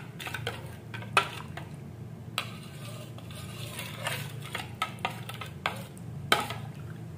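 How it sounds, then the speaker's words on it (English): A spoon stirring turmeric powder into a mixture in a metal pot, with soft scraping and scattered light clinks against the sides over a low steady background hum. "Mix it very well, just like this."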